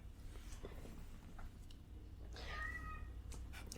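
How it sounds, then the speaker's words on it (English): A cat meows once with a short rising call, fairly faint against a steady low background hum, with no talking. "I heard that. Meow."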